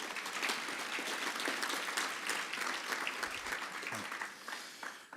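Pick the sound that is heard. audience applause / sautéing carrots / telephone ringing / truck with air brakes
audience applause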